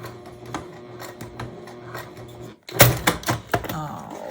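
A sewing machine stitches a crossbody bag at a shortened stitch length in short bursts, close by, followed by a pause and then louder knocks and handling thuds.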